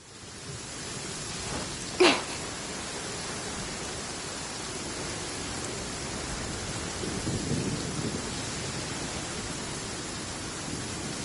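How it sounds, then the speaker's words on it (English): Steady rain hisses throughout in the video game Genshin Impact, broken near the start by a single sharp, close thunderclap; the downpour swells slightly later on, with no voices. "Thunder and lightning can be quite frightening"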